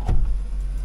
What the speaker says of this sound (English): The driver's mirror is working. Passenger mirror as well.